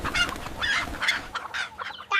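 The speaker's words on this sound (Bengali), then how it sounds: "অনেক টাকা দিয়া এই মুরগিটা আনলাম" A chicken clucks in a quick series of short, nasal calls close to the listener, sounding agitated and uneven.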